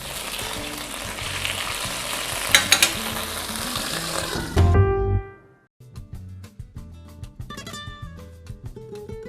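Steak sears in a hot pan for a beef-with-truffle-sauce dish, a dense, loud crackling sizzle for about five seconds before cutting off, then quieter spitting and light clatter follow.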